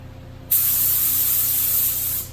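Spray gun applying one wet coat of paint to the dash pad of a 1972 Buick Centurion, a sudden steady hiss that starts after a brief quiet moment, holds evenly for nearly two seconds, then cuts off.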